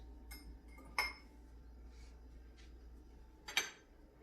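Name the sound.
mixing cheeses into mac and cheese in a pot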